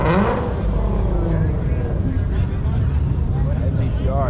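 A Nissan GT-R runs with a steady, loud engine rumble at a cars-and-coffee car show, heard close up under ongoing crowd chatter and nearby voices.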